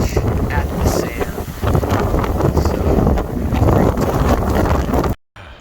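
Strong wind on a beach in southern Spain buffets the microphone in loud, rumbling gusts for about five seconds before cutting off abruptly.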